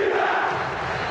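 Vasco da Gama football supporters chanting in a Brazilian stadium during the 2001 Campeonato Brasileiro final against São Caetano, a loud, continuous wall of massed crowd voices.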